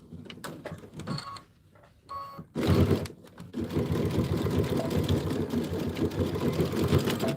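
A home sewing machine stitches a Minki Kim Bloomberry fabric panel, starting with short stop-and-go bursts of needle chatter, then running in a long steady whirring stretch, close and clear with no talking.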